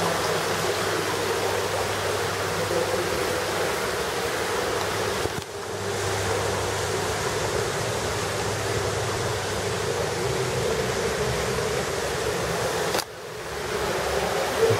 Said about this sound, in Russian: Водопадик, амазонка.